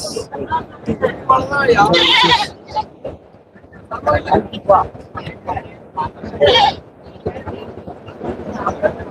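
Goats bleat repeatedly at the Melapalayam goat market on a Tuesday, with several overlapping calls rising above a busy crowd of people talking nearby.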